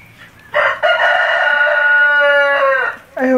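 A pet rooster crows indoors in a house with one loud, close, drawn-out cock-a-doodle-doo lasting over two seconds. It starts and ends with short clucks and rustles.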